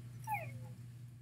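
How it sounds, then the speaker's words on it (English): A dog in a video game gives a brief high whimper over a low steady background hum, faint and short. "Oh, here's my dog. Don't kill him, please."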